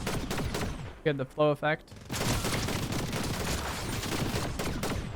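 Dense, continuous minigun fire from the Fortnite video game roars almost without pause, loud and close, briefly broken by a short pitched synthetic burst before the barrage resumes, with a voice talking over it.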